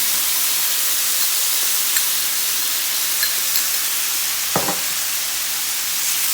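Spice mix for crispy southwest tacos simmers in a pan, a steady broadband sizzle and hiss with a couple of faint clinks, continuous and close, with no talking.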